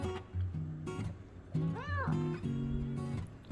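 A single short, rising-and-falling meow from a nearby cat, heard over a low background hum and faint murmuring.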